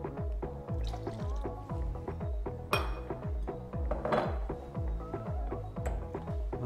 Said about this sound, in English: I'm gonna pour some Remy over this